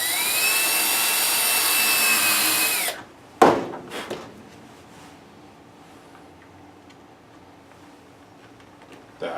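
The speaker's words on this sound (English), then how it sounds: "It's not a drill, it's a reamer." A reamer powered like a drill widens tuner holes in the headstock of a 1959 Les Paul Special VOS guitar, giving one loud, steady whine for about three seconds before it stops, followed by a few brief knocks and quiet handling.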